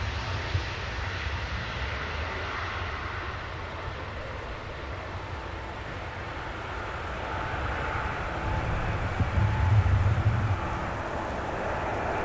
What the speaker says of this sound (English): Ryanair heads out to Dublin.